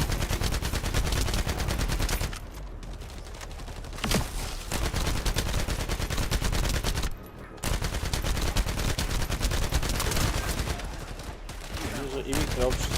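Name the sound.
gunfire in video game The First Descendant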